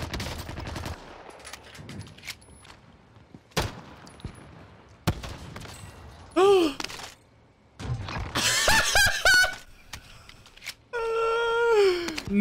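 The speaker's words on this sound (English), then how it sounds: "No way did he just get sniped." Gunfire in the battle royale video game Warzone, including a sniper rifle shot; sharp, loud cracks and short bursts scattered among mechanical clatter and other game effects, with some brief voice sounds.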